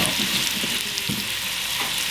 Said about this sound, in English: It gets a little hotter and sizzles a lot.